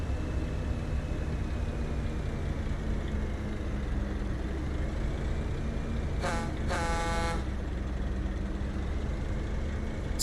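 Amid steady traffic rumble, a vehicle horn gives a short honk followed by a longer blast, moderately distant.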